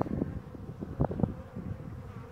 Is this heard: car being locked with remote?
no